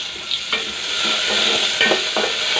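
Onions, curry leaves and dal sizzle and fry in a pan for a village-style brinjal curry, with steady close frying hiss and a few stirring scrapes, no talk.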